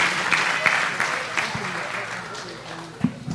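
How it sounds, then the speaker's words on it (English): Audience applause for children at a Sunday school term-end presentation, steady clapping with a few sharper individual claps and faint voices underneath. "Round of applause again for these wonderful kids,"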